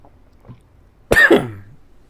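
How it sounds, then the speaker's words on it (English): A single harsh cough, close and loud, after a moment of near silence with a faint murmur before it. "I still have some coughing"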